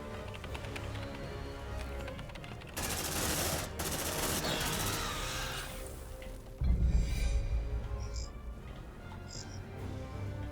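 Automated sentry turret in Aliens: Dark Descent firing sustained bursts of gunfire, dense and continuous with louder heavy blasts midway, alongside game ambience and small electronic chirps.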